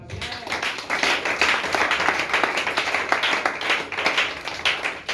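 A congregation at a Côte d'Ivoire repentance service applauds to acclaim God's name, dense sustained clapping that fills the space from start to finish at a steady, lively level.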